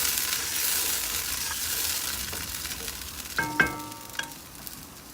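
Mexican rice sizzles in a frying pan, with a soft continuous crackle and a few scraping stirs and clinks of a utensil near the end.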